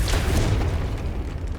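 A Confringo blasting spell goes off in Hogwarts Legacy as one loud, deep boom that rumbles and slowly fades away.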